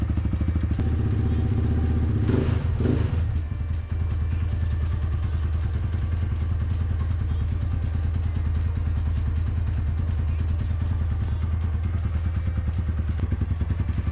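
A GPR 250 motorcycle engine idles to warm up before a long ride, a close, loud and steady chugging rhythm with a brief clatter of handling noise near the start.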